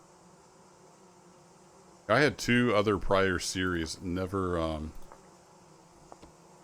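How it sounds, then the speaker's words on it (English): A soft, steady buzz of bees in the game Vintage Story hums in the background while someone talks over it for most of the clip. "I just heard some bees."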